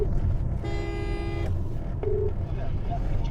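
A phone ringback tone sounds, one long buzzing tone followed by a shorter one, over a busy background of voices and murmur.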